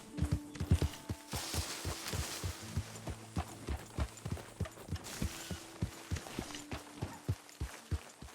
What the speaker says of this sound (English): Get the horse out of here.